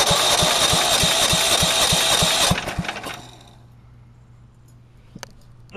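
Small lawn mower engine on a homemade go-kart with a sticky choke chugs loudly up close with rapid regular firing pulses, then cuts out abruptly, leaving faint low hum and a couple of light clicks.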